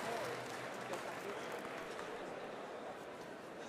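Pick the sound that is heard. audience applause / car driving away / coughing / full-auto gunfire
audience applause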